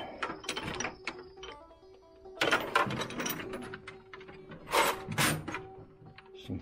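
Socket ratchet wrench turning clamp bolts while a bilge pump is installed in a bass boat, giving bursts of close, rapid clicking with pauses between strokes.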